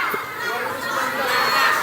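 Crowd at a dam inauguration in NTB, a dense mass of voices shouting and cheering together, loud and steady throughout with no single voice standing out.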